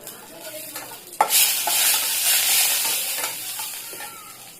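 Panch phoron and bay leaves hit hot oil with a sudden sharp sizzle about a second in, then a sustained loud frying hiss with stirring.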